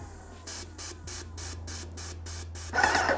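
Graco airless paint sprayer flushing clean water through a reversed spray tip, a rhythmic series of about eight loud hissing spray bursts over a steady low pump hum, ending in a stronger, longer blast.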